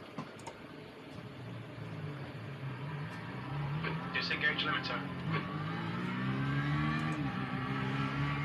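A simulated race car engine roars in a racing simulator game during a Watkins Glen test drive, its revs climbing in rising sweeps after a quieter start, with a voice faintly present.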